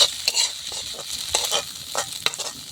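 Pointed gourd and okra frying in a pan, with a steady bright sizzle and repeated stirring scrapes at close range, and no voices.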